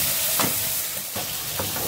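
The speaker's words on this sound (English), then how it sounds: "just keep mixing the tomatoes until it was soft" Tomatoes sizzle and fry steadily in a pan for mutton keema, with a few louder stirring scrapes and clacks over the continuous close hiss, and no talking.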